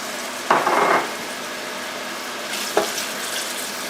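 Diced medium yellow onion dropped into shimmering hot oil, giving a short sizzling burst followed by a second, smaller crackle, then a quieter steady hiss, with no talking.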